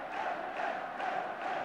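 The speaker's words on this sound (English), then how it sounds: "Norwegian crowd already beginning to celebrate," Home supporters at a Norway v England World Cup qualifier in 1981 roar in celebration, a dense, sustained stadium crowd noise held at steady loudness throughout.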